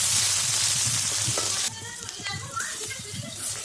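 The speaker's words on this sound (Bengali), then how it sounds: "দিয়ে ভালোভাবে মশলাটাকে কষিয়ে নিলাম।" Onion, garlic and ginger paste masala with green chilies frying in a pan makes a bright, intense sizzle that suddenly drops to a softer crackle partway through, with occasional stirring taps and faint background voices.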